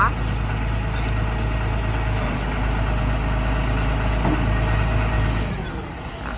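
A Komatsu FD135T-6 13-ton forklift with an Isuzu 6BG1 six-cylinder diesel idles steadily, a loud low rumble with an even throb that runs continuously before tapering slightly at the end.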